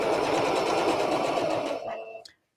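Sewing machine stitching around the corner of a small piped cushion cover, a steady close motor whir with rapid needle rhythm that slows and stops, followed by a faint click.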